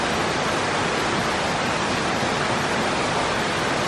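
Waterfall in Lombok, Indonesia, a steady, loud, full roar of rushing water with no breaks and no voices.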